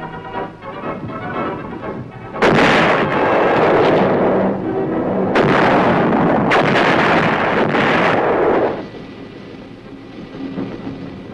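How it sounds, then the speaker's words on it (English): 175 mm self-propelled guns firing shells at the Aberdeen proving ground, several loud booming blasts in succession with rumbling tails between them, heavy and close, followed by a quieter fade. "the 175s reliably deliver shells with pinpoint accuracy on targets over 10 miles away"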